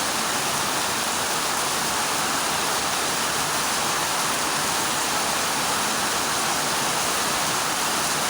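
Steady, dense rushing floodwater roars without letup during a typhoon, a broad, continuous wash of noise with no voices.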